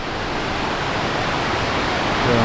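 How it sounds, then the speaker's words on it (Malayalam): Beside an off-road trail, a river rushes in a dense, steady broadband roar. A low rumble rises at the end. "ഇവിടെ സൈഡിലൊരു നൈസ് പുഴ ഒഴുകുന്നുണ്ട്"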